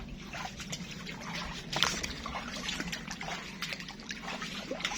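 Water trickling through a flooded banana garden with standing water several inches deep, a soft, continuous outdoor dribble with faint splashes, quiet and steady with no voices.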